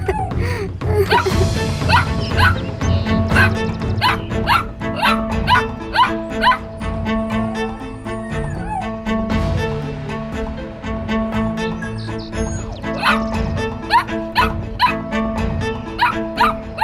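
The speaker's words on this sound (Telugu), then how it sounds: "వీడసలు ఎందుకిలా మొరుగుతున్నాడు?" A cartoon dog in a Telugu kids' story barks over and over in quick, loud yaps with some whimpers mixed in, set against background music and effects.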